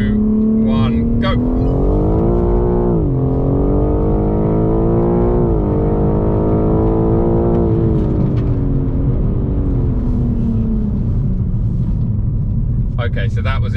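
BMW M4 Competition in second gear with a manual shift, pulling hard off the line in a drag race, its engine note climbing steadily through the revs and staying loud and close for the whole run.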